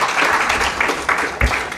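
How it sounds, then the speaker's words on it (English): A conference audience applauds a speaker coming up to address a Transforming a Nation gathering. Dense, steady clapping fills the hall for a couple of seconds, with a few sharper claps standing out and faint voices mixed in. "Clap for him, please, as he comes to address."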